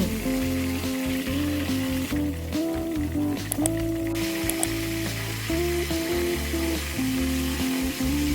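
Sour fermented fish (pla som) frying in oil with a splash of vinegar gives a steady, continuous sizzle that runs unbroken from start to end, with a sustained tonal background underneath and no talking.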